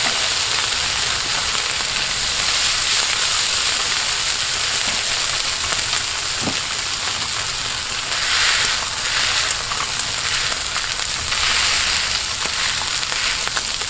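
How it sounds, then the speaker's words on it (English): Hash browns frying on a Blackstone griddle, a loud, steady, close sizzle and crackle of hot fat that holds continuously throughout with small pops and shifts in texture. "let's go ahead and get these on."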